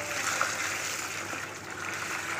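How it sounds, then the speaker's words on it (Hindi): Water is poured into white phenyl concentrate during cleaning liquid making, giving a steady, close hissing trickle that runs unbroken, with no voices. "अब इसमें हम पानी डालेंगे।"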